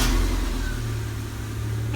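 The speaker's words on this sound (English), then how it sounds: "will she start? Key in ignition, gearbox to neutral, fingers to crossed." A Mazda MX-5 Miata engine, just refitted with a new timing belt and cam pulleys, turns over and settles into a steady running hum, fairly loud and close, with no one talking.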